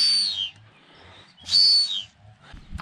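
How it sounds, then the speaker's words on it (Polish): Two bright, sliding whistles from a tube, each about half a second, separated by a quiet gap, with faint low rumbling underneath. "Jak jest inna długość tej rurki, to jest inny dźwięk i inna średnica."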